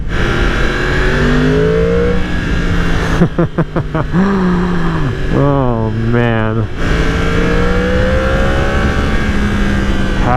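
A 2020 Yamaha R1 sport motorcycle engine revs hard in quick bursts, climbing and dropping in pitch, loud and close, with a brief exclamation from a person partway through.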